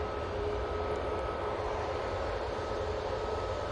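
A continuous, fairly loud engine roar from an arriving aircraft at Manchester Airport, steady and unbroken for the whole stretch, with no voices.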